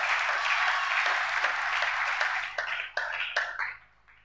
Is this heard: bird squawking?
no